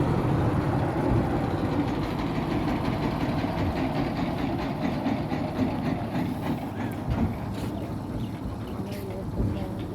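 A trawler boat's engine running on the Sandhya river, a steady low chugging drone close by throughout with faint voices in the background.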